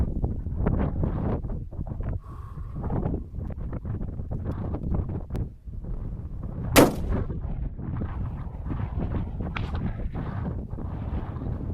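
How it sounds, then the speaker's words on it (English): A 6.5 Creedmoor Savage 110 Tactical rifle fired at long range in strong wind: one sharp, loud report stands out over constant gusty wind buffeting the microphone. "It's just squeezing that trigger."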